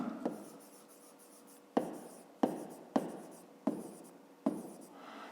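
Quick scratchy strokes of writing on a board during a 5th-grade math lesson, about six in an uneven rhythm after a short pause, close and soft, with no voices.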